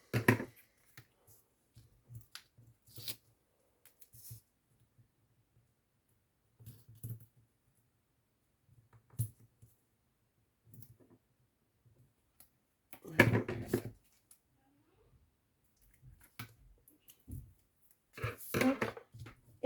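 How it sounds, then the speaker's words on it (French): Paper trimmed for scrapbooking, a vellum sheet cut in short crisp snips and clicks scattered through quiet stretches, close and fairly faint. "Je coupe ce qui dépasse."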